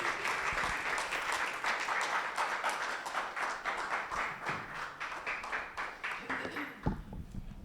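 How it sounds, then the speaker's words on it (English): Audience at a Ghanaian media and food safety forum applauding as the keynote speaker walks to the podium: sustained, fairly even clapping from a roomful of people that thins out and stops near the end. "Shall we receive him with an applause as he draws near the podium?"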